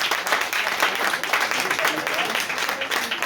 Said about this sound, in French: Donc, vous pouvez l'applaudir.